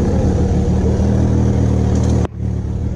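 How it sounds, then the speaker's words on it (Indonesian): A Benelli TNT 1130 Cafe Racer motorcycle engine rumbles close and loud at a steady idle, then drops abruptly in level near the end. "ini adalah Benelli TNT 1130 Cafe Racer."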